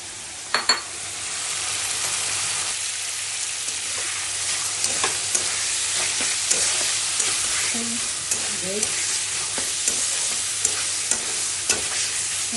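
Spices and marinated tomatoes sauté in a pan with a continuous sizzle and hiss, punctuated by a few sharp utensil knocks and scraping stirs against the pan.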